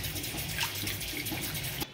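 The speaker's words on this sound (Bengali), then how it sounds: "পুরো জলে ধুয়ে নিচ্ছি আমি" Prawns are washed in water, a soft, steady splashing and sloshing of water close by, running continuously for a couple of seconds with no voices.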